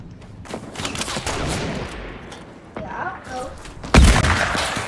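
Bursts of gunfire in the Fortnite video game, a quick scattered volley of shots with a sharp louder blast near the end, heard alongside game noise.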